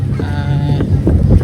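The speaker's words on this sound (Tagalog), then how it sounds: "Mahangin." Wind buffets the microphone in heavy low rumbling gusts at Carmona City Park in Cavite, with faint chatter and tones audible underneath.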